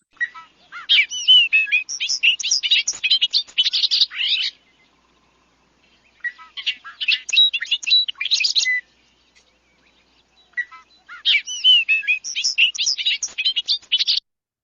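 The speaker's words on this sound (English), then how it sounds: "Best part about this bird is absolutely its song, and it sounds like R2-D2 or a robot." A red-winged blackbird-style marsh bird sings in three bursts of bubbly, warbling, electronic-sounding notes, like a robot or R2-D2, separated by quiet pauses, clear and fairly close with no talk.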